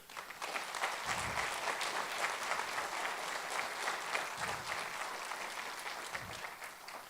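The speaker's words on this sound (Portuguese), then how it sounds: "professor Pietro Baldi, a quem eu peço a nós uma grande salva de palmas." Applause at a lecture on Christ, a broad, even patter of many hands that fills the room and holds steady throughout, heard from a distance and fairly faint.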